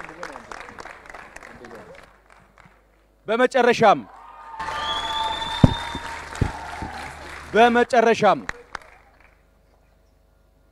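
An audience at a student quiz competition breaks into applause in several loud bursts of clapping, separated by a speaker's amplified voice and a short stretch of silence.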